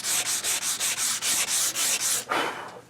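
Rhythmic back-and-forth sanding on cherry wood frame pieces, about a dozen even rasping strokes close up, ending with a heavier scrape.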